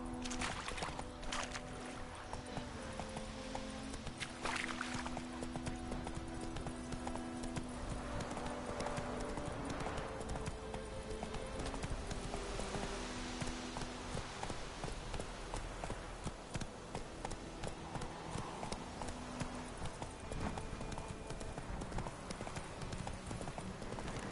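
Horse hooves clip-clop steadily at a trot or gallop through the full stretch, loud and continuous in The Witcher 3 video game, mixed with game music and ambience and a brief whinny-like cry.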